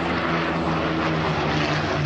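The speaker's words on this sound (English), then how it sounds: "American coming in with the photo reconnaissance Spitfire." A World War II photo reconnaissance Spitfire painted in wartime colours flies in at an airshow, its piston engine giving a loud, steady propeller drone that holds evenly with no break.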